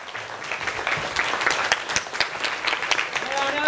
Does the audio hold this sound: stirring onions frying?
no